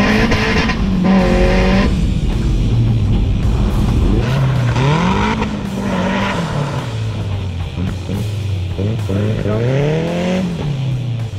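A BMW 318is turbo drives onto tarmac from a dirt course lined with clay pots, its engine loud and close, revving up and down in repeated rising and falling sweeps over steady road and tire noise.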